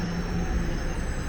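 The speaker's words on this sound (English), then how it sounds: "Oh, and a southbound train rolls in again." Southbound subway train arriving at Rosedale Station in Toronto: a steady, loud rolling rumble with a thin high whine throughout, no voices.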